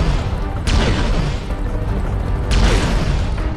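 Loud booming weapon shots from the Iron Man video game, two heavy blasts with crashing tails over a dense rumbling background.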